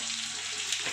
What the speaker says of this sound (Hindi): अब इसमें हम अपना कटा हुआ प्याज डालेंगे और हरी मिर्च डाल देंगे